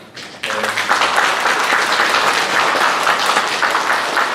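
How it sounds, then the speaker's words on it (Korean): A church congregation, on its feet, claps to welcome a visiting missionary and his wife. The applause bursts in after a brief quiet start and holds as a loud, dense, steady wash to the end. "잠시 잘 일어나 주시면 같이 박수로 환영하겠습니다."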